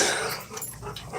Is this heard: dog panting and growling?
yes